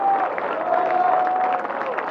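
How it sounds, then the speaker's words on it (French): Crowd at a protest march in Geneva applauding the organizers, a dense steady wash of clapping with a few cheers, mixed with voices and a tonal hum. "je voudrais qu'on les applaudisse, tous ces combattants, tous ces gens"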